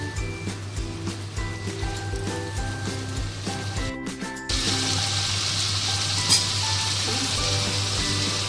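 Lote fish (Bombay duck) frying in a pan, a continuous sizzle that swells louder halfway through, with rhythmic clinks of cookware heard early on and no voices.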